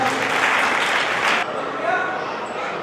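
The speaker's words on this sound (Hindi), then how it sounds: "अरे तालियां तो बजाओ भाई" Applause from an audience at a Mahavir Jayanti religious gathering in Dahod, Gujarat, a dense burst of clapping for about a second and a half that then thins to a lighter patter.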